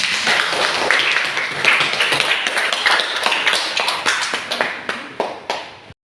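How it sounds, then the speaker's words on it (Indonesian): Students in an Indonesian-language classroom clap, a brisk round of applause that thins into a few scattered, separate claps before stopping. "Tepuk tangan buat semuanya."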